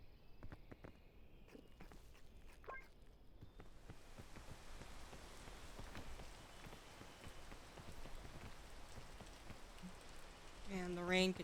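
Steady, dense rain hisses in the video game PEAK, a continuous wash of falling drops with scattered patters and light steps, rising slightly near the end.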